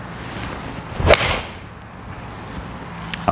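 A golf swing with a Callaway Apex TCB iron: one sharp swish and crisp strike at the ball, loud and close, heard alone with faint background noise.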